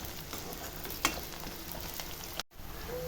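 Onions sautéing in a pan for Tamil kuzhambu give a quiet, steady sizzle and hiss, with a couple of brief stirring knocks and no voices.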